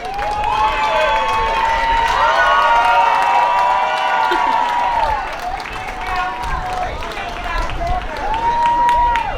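Audience applause and cheering fill a city of Paterson inauguration ceremony crowd, a loud, continuous wash of clapping with voices calling out over it throughout.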